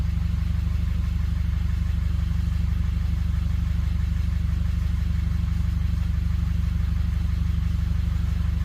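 A car engine idling while running rich, a steady low drone with an even pulsing rumble throughout, close and loud with no talking.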